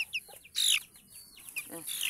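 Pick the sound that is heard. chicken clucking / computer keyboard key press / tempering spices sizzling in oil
chicken clucking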